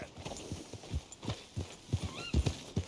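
Horse hooves clip-clop in an uneven rhythm, followed by a short rising whinny, all fairly close with a game-like backdrop from Red Dead Redemption 2.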